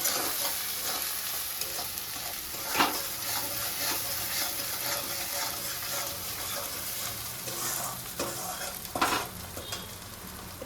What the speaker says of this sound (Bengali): তেলের মধ্যে আলতো হাতে ভেজে নিব